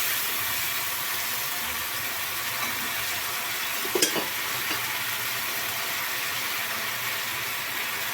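Eggs sauté in a pan of spicy curry masala, giving a steady, even sizzle that holds throughout with a brief clink or stir near the middle, no voices.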